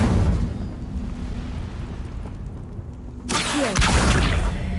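Incendio fire spell cast in Hogwarts Legacy: a low rumbling bed suddenly erupts into a bright whooshing burst of flame near the end, loud and close.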